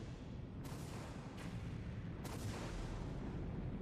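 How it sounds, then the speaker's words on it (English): Explosions from the 1999 Sega Dreamcast game Sonic Adventure go off as three sharp, faint blasts spaced about a second apart over a low rumbling game background. "Time for some semi-decent looking explosions for a 1999 game."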